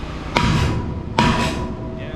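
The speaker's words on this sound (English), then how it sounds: "I have my sledgehammer, please." A sledgehammer strikes a steel building frame near a weld twice, about a second apart. Each blow is a loud, sharp metallic clang followed by a ringing tail.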